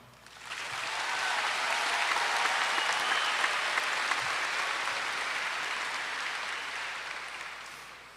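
Full audience applause for the Anderson County class of 2021 at a graduation ceremony, rising quickly after a quiet start and holding steady and loud for several seconds.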